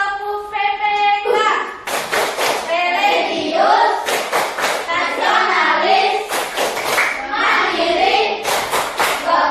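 Schoolchildren in an Indonesian classroom clap in a rhythmic group chant, sharp bursts of many hands alternating with chanted words, close and loud, with the children's voices leading between claps.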